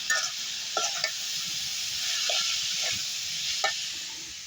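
Leafy greens and potatoes fry in a pan with a steady, bright sizzle, broken now and then by short scraping stirs of a spatula; no voices.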